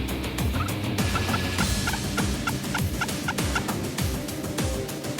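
Wild turkey gobbling repeatedly during a hunt in Québec, a series of short rattling gobbles over a dense, busy outdoor background of other calls and noise.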